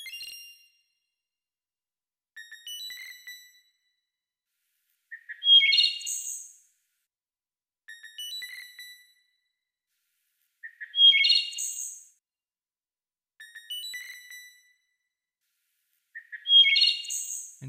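MIDI rendition of field-recorded bird calls: repeated synthesized chirping phrases at regular intervals, bright and high-pitched, some phrases ending in a higher ringing note, with no talk.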